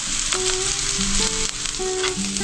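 A brief, steady sizzle of sautéing in a pan, continuous frying hiss with faint stirring scrapes, heard close and alone without talk.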